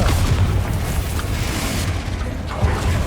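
A Confringo explosive spell goes off in the Hogwarts Legacy video game, a loud booming blast with heavy low rumble that stays dense and sustained throughout, with a second punchy burst near the end.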